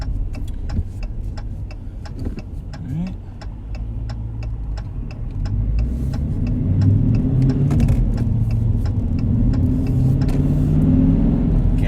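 A 2019 Dodge Challenger R/T Shaker with a six-speed manual rumbles steadily at low pitch while driving, growing slightly louder and deeper partway through, with faint regular ticking clicks on top.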